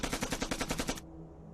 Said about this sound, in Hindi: अभी साउथ से सिर्फ हमारे यहाँ से 2 बंदूकों से गोली चल रही है।